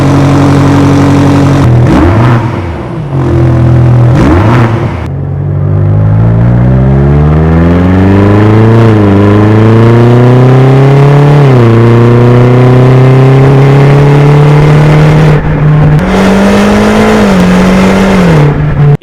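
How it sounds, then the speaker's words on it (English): Stacked exhaust of a 2024 BMW XM Label hybrid SUV revving hard: a loud, close engine climbing through several rising pulls and settling back between blips, with no talk over it. "a high-gloss black rear diffuser and a very interesting stacked exhaust system"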